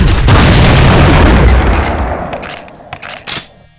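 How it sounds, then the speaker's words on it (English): A Hexa shotgun fired in a modded Doom game: a huge, booming blast with a heavy low-end roar that slowly fades, followed by a few smaller pops and impacts as it dies away. "blast it with a Hexa shotgun, or 2 quad shotgun shots"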